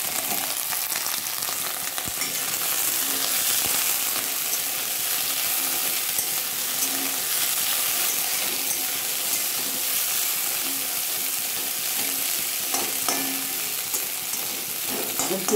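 Bitter gourd pieces frying in hot oil in a pan, a steady broadband sizzle that crackles continuously and close by, with faint stirring scrapes now and then and no voices.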